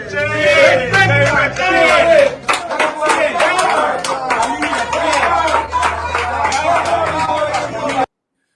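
A small crowd of about a hundred people claps and murmurs, loud, continuous applause mixed with overlapping chatter and voices close by, ending abruptly.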